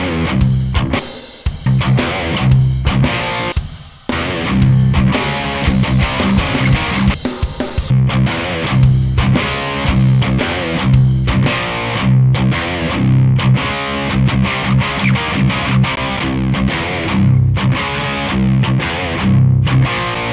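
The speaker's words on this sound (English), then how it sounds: "the SH6 Distortion is like, I think it would be the perfect pickup for punk rock or something" An electric guitar with a Seymour Duncan SH6 Distortion pickup plays heavily distorted riffs that could suit punk rock, a dense and loud sound that runs without a break and has no voice over it.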